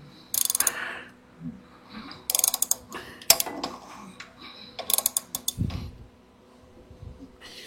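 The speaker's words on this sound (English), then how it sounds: "Now the air is getting pushed out from my finger. Hear that? When it's getting pushed out, that's the exhaust stroke." An engine crank is turned by hand, giving close ratcheting clicks, and air is pushed out past a finger held over the opening on the exhaust stroke, making short hissy bursts between quieter stretches.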